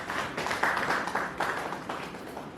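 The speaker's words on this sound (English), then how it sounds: "Please, let's clap for Dr." An audience applauds at a talk on gossip in political campaigns, a steady wash of many hands clapping together for a few seconds with no clear pauses.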